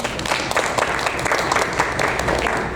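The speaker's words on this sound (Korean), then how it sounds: "우리가 박수를 한번." Sunday service congregation at a Presbyterian church applauding, a continuous, even round of many hands clapping at moderate loudness, filling the room without pause.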